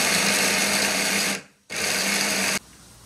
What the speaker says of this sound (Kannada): ಇದಕ್ಕೆ ಹಾಕಿ ಬ್ಲೆಂಡ್ ಮಾಡ್ತೀನಿ